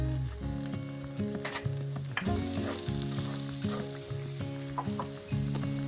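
Potatoes fry in butter for corned beef hash with a steady, close sizzle that runs throughout, broken by stirring scrapes and clatter from the pan.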